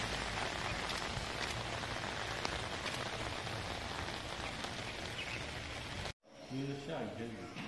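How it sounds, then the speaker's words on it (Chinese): Steady rain falls on a rainy day over slippery roads, an even close patter with occasional louder drops, which cuts off abruptly and is followed by a brief moment of voices talking. "下雨天，天雨路滑。"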